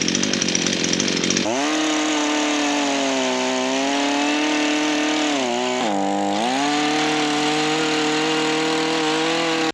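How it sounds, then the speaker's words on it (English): A chainsaw engine roars continuously and loudly, revving and dipping briefly partway through, after a short quieter stretch at the start. "Starting a bloody chainsaw."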